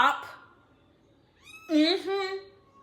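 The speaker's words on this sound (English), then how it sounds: "They're meowing because they know I'm preaching." Cats meow indoors, two or three short cries rising and falling close by, mixed in with someone speaking.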